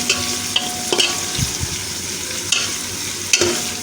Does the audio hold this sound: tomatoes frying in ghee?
yes